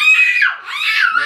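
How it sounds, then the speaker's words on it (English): A loud, sustained high-pitched scream lasting about a second, rising and falling in pitch, close by with no other sounds. "No screaming like that, no screaming like that."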